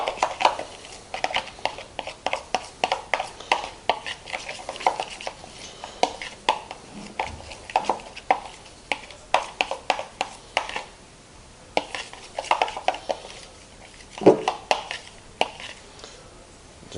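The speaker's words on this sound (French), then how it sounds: "On mélange." Homemade fake blood with honey is stirred in a bowl, giving close, rapid, uneven scraping and clicking of a utensil against the bowl, pausing briefly now and then, with no speech.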